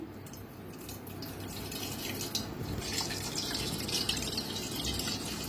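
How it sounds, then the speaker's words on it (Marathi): Steady trickling and splashing of water being poured off soaked grain, leaving the settled starch behind, continuous and close, with no talking. "आता हे पाणी आपल्याला काढून घ्यायचं आहे"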